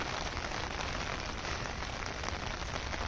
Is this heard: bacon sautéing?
no